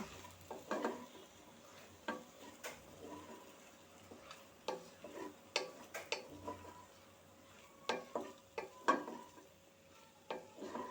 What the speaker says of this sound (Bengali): কর্নফ্লাওয়ার জল দিয়ে গুলিয়ে রেখেছিলাম সেটি এখন ঢেলে দিব দিয়ে নেড়ে দিব